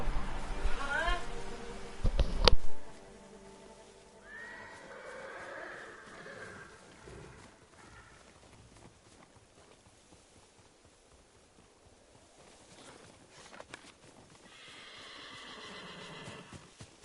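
A horse in Ghost of Tsushima gives a loud, close whinny at the start, followed by a long quiet stretch with faint hoof and movement sounds.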